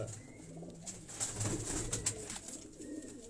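Kasuri high-flying pigeons cooing softly at close range, several low throaty coos spread across a few seconds over quiet background noise, with faint higher bird chirps and no speech.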